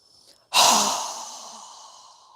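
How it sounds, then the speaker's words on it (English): One strong, breathy exhale through a wide-open mouth during a yoga breathing exercise, starting abruptly after a faint inhale and fading out slowly over about two seconds, close and alone. "exhale with a strong breath with our mouth open wide"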